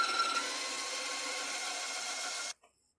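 Sandpaper honing the bore of a Mannlicher 1888/90 rifle, a continuous close rasping scrape that stops abruptly, followed by near silence.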